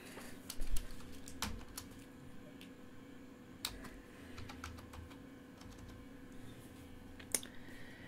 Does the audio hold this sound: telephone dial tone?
no